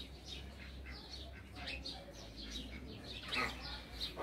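Small birds chirp and tweet in an outdoor aviary at a rustic garden, many light, overlapping calls at moderate distance over a low steady hum, with a voice faintly audible underneath.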